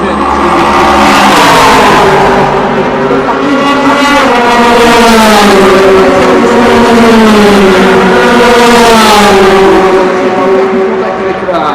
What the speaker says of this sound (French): Les deux voitures, les deux Porsche en tête.